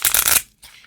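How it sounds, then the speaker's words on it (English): A deck of Lenormand cards being shuffled, a dense burst of riffling card noise for under half a second, then a brief pause and a softer trailing rustle, close and alone. "Let me do one more of these, and then we'll just cut shuffle."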